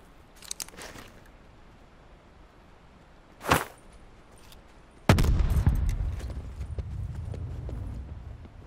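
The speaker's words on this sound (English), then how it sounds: "Throw a grenade into that shed." Grenade blast in the video game Call of Duty Black Ops 4 Blackout, a sharp loud burst followed by a rumbling, crackling tail, preceded by a brief thump and scattered clatter, with no talking.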